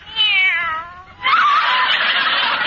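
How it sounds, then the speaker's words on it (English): A kitten meows as a sound effect in a vintage radio comedy play, one long wavering meow followed by a brighter, higher cry, both loud and close with no talking. "Oh, there you are, you cute little kitten."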